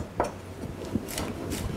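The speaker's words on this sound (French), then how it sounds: "Le poireau, donc pareil, lavé, coupé dans le sens de la longueur" A knife slices through a washed leek cut lengthwise, with a few soft, close taps on a cutting board against a quiet kitchen background.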